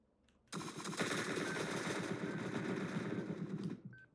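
In the video game Entry Point, a long sustained burst of rapid automatic gunfire shoots through a wall, starting abruptly after a brief quiet moment and cutting off near the end, loud and close.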